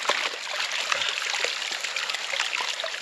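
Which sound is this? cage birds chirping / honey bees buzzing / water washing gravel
water washing gravel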